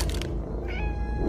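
A single cat meows once, close and clear, a short rising-then-falling cry in a Roblox game with nothing else heard.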